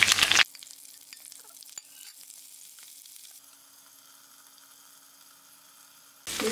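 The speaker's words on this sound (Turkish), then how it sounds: "Biberlerimiz iyice kızardı." Peppers and garlic fry in olive oil with a faint, steady sizzle, bracketed by louder bursts at the start and end.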